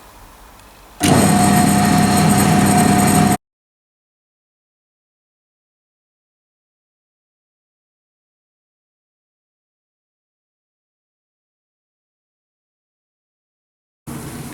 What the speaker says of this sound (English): I have in my drill chuck in the tailstock an 11mm drill bit, and we'll go ahead and bore the hole down in part A